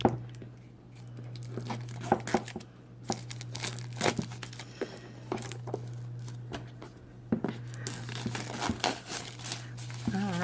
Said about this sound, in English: it's still in the plastic. Let's tear it off and see what we got inside.